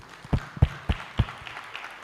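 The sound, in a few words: audience applause at university orientation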